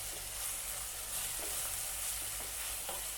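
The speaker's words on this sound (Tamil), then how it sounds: "அடுத்ததாக 1 டீஸ்பூன் இஞ்சி பூண்டு பேஸ்ட் சேர்த்துக்கோங்க." Ginger garlic paste ground with green chilli and mint frying in a pan for capsicum rice, a steady soft sizzle with faint stirring scrapes throughout, no voices.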